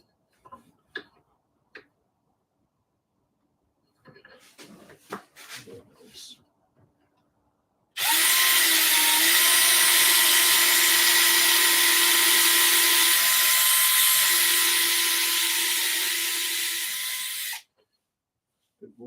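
A few faint taps and knocks, then a power drill whines steadily into wood for about ten seconds before stopping abruptly.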